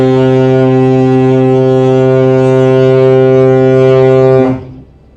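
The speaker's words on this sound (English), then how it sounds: "The fog horn even, not the fog go." A ship's foghorn blasts in fog, one long loud sustained low tone held for over four seconds before cutting off abruptly into quiet.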